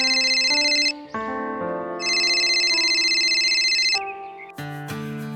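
A phone ringtone plays a repeating melodic tune of bright synthetic tones, loud and close, ringing on alone with a call from home.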